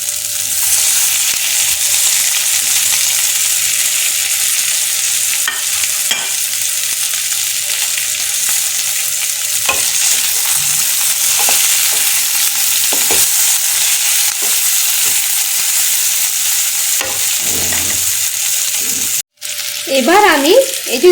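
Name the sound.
tofu frying and being stirred in a wok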